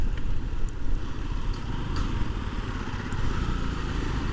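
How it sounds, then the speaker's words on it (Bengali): A motorcycle rumbles along a tree-lined rural road. Its engine drone stays steady and fairly loud throughout, with a low, buffeting roar like wind or road noise under it. "এখন বাইকটা মানে চালাইতেছি যে এটা ভাল লাগতেছে"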